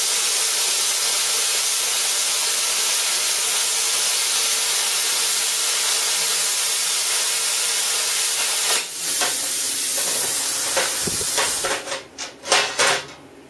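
Plasma cutter slicing quarter-inch steel at 90 PSI: a steady, loud broadband hiss runs unbroken for about nine seconds, then breaks into a few sharp bursts and sputters near the end.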